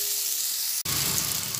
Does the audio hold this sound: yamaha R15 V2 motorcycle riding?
no